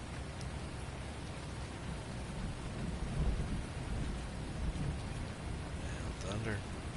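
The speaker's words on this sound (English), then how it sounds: "And thunder. Sounds like the storm's getting close." In the Farming Simulator video game, thunder from an approaching storm rumbles low and faint beneath steady heavy rain, swelling briefly in the middle before settling back into the downpour.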